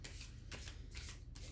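Tarot cards being shuffled by hand in a steady run of riffling, papery bursts, close and fairly loud, with no talking; a single card flicking out is not clearly separable from the shuffle.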